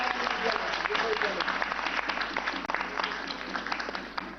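An audience applauds at a government quiz show in Rajasthan, with dense, steady clapping that holds loud from start to finish, partly mixed with a voice.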